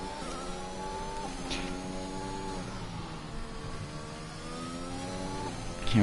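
An F1 car engine revving on its out lap at pre-season testing in China, heard as a high, rising and falling whine with several gear-change steps, fairly steady and moderately loud.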